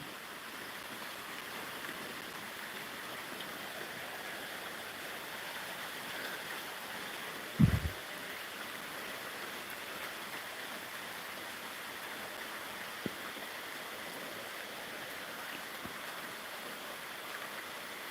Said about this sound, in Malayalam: ഇതാ മഴ വന്നതോടുകൂടി നമ്മുടെ ആമ്പലൊക്കെ ഇതേണ്ടേ മിഴി പൂട്ടാനായിട്ട് തുടങ്ങും